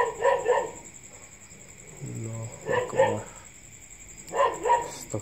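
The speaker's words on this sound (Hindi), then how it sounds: "इससे पहले एक आवाज़ आई है कुत्ते के भौंकने से पहले" A dog barks in three separate bursts of a few barks each, fairly close, with a lower moaning sound between them and a faint steady high whine in the background.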